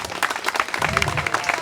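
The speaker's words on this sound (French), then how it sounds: "Vos applaudissements s'il vous plaît" An audience at a school's silver jubilee breaks into brief, lively applause, with many hands clapping densely and close by throughout the short burst.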